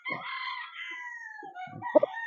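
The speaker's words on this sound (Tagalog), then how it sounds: "Boston Golden Boy. Yan. Gwapong manok." A rooster crows one long, drawn-out call nearby, followed by a couple of short clucks, with no voices.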